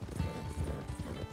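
Horses galloping across open country in the video game Red Dead Redemption 2, a steady rhythmic drumming of hooves at full speed, close and continuous for the whole stretch with no talk over it.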